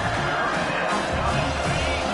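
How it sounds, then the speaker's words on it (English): A stadium crowd in a college football video game roars steadily and loudly, a dense wash of noise running under play-by-play commentary. "This crowd, full throat, splitting the eardrums"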